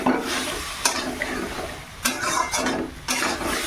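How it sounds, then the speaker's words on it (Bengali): Cauliflower and potato being sautéed in a pan with cumin powder, turmeric and chilli powder, with a steady close sizzle, several sharp scraping stirs and soft clinks of a spatula against the pan. "ফুলকপি আর আলু এই যে কষিয়ে নিচ্ছি মশলা দিয়ে"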